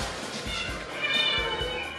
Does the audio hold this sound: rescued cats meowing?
yes